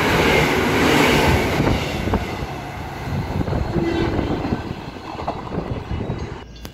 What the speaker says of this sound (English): About to pass, we have a Perth service. This train came express from Armadale